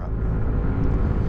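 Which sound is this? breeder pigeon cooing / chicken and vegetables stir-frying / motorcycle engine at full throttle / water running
motorcycle engine at full throttle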